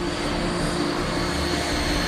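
Steady, loud jet engine roar spooling up from low RPM, with a droning hum, holding constant throughout with no voices present.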